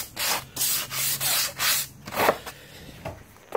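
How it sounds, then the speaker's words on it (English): Reclaimed wood boards being sanded for the back of a bookcase, a loud rhythmic series of about seven scraping strokes with brief gaps, close up and with no talking. "those are all sanded already to my liking"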